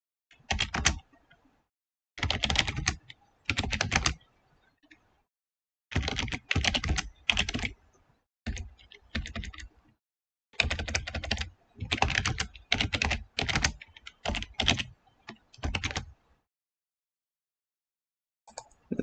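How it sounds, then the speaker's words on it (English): Typing on a computer keyboard in a home streaming setup, rapid clicky keystroke bursts in irregular runs with short silent gaps, close and crisp with no talking. "I'm typing."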